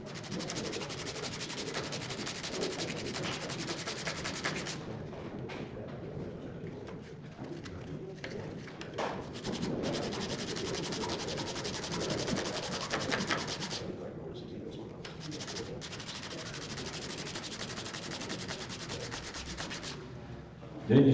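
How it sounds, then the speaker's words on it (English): Continuous rhythmic rasping of sandpaper worked back and forth on wood on a lathe bed, removing bandsaw marks, close and steady, with birds cooing faintly in the background. "I put a piece of sandpaper on the lid, bed of the lathe, and I just work it back and forth."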